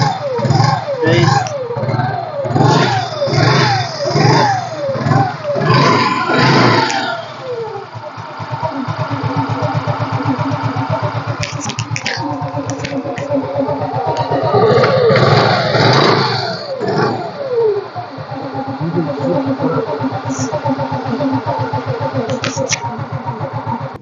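A 2013 Yamaha scooter engine cranking with rapid repeated starter pulses, then catching and idling with a few revs, close by, with people talking over it.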